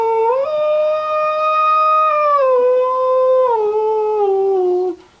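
A didgeridoo mimics humpback whale song with a loud, sustained tonal drone that slides upward at the start, holds, then steps down twice in pitch before cutting off; no talking.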